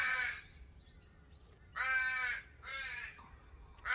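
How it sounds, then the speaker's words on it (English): Crows caw outdoors, drawn to corn and seed, in three loud harsh calls at uneven intervals, with a fainter bird call between them. "Just while we're listening to the crows"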